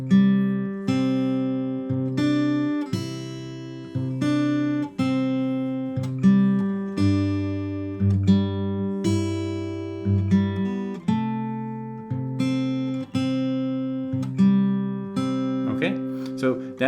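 Fingerstyle guitar in Travis picking style rings out clearly, the thumb hammering the same bass note in a steady pulse while treble notes pluck above it, alone with no talking.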